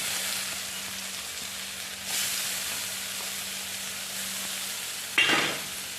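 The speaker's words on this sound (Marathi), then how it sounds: "व्यवस्थित ते परतून घ्यायचं तेलामध्ये भाजलं गेलं पाहिजे" Masala paste sizzles in hot oil in a pan, a soft steady frying hiss with a stirring scrape near the end, heard close and fairly quiet with no voices.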